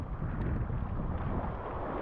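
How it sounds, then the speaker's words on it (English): Strong wind of about 20-22 knots sweeps over Sandy Island off Carriacou, a steady, loud rumbling roar that buffets the microphone for the whole stretch, with no pauses or voices. "the wind is pretty pretty strong now. It's blowing like 20-22 knots"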